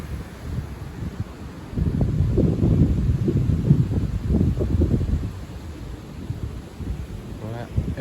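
A strong gust of wind from the edge of storm Éowyn swells and buffets the microphone for several seconds, then eases back to a lighter, steady blow.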